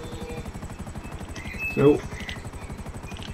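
A helicopter in GTA V Online, steady rapid rotor chop pulsing throughout at moderate level, with a voice speaking briefly over it.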